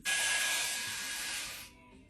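A DigitalAIRE styling wand blows hot air while drying a section of hair, a steady loud close-up hiss of the motor and airflow that cuts off abruptly after about a second and a half, with no talking.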